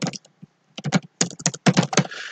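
Bursts of rapid key clicks on a computer keyboard as a host name is typed, close and fairly loud, in several quick runs separated by short pauses.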